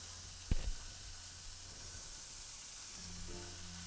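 A big beef burger patty sizzles in a pan, a steady close hiss of frying after a brief thump as it goes in, continuing evenly with a faint hum underneath and no talking.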